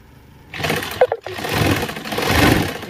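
A sewing machine stitches men's underwear in short close bursts that speed up and slow down, its motor whirring with a brief pause between runs.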